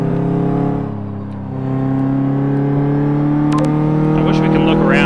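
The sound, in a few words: car driving in the video game Car Mechanic Simulator 2015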